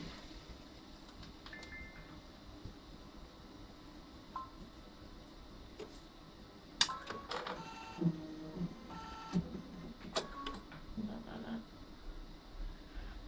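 A sewing machine stitches a rag quilt after being rethreaded, with faint rapid mechanical chatter and clicks in short runs over a quiet room hum, close but soft.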